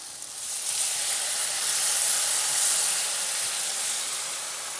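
Turbot with a splash of wine and butter hisses steadily on a hot grill, a broad, even sizzle with steamy spitting that holds at moderate loudness with no voices over it.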